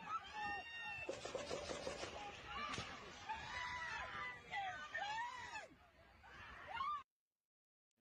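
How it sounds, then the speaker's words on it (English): A crowd at the Trump assassination-attempt rally shooting erupts in frantic overlapping screams and shouted voices, loud and chaotic throughout, before cutting abruptly to silence near the end. "And a lot of screaming"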